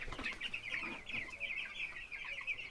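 Young chickens about two weeks old cluck and chirp steadily inside a fowl coop on a Jamaican poultry farm, a dense continuous chorus of overlapping high calls at moderate level.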